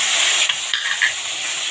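Cumin seeds and dried red chilies sizzle in hot oil in a pan, a steady close frying hiss with a brief stir or clink near the middle, no talk.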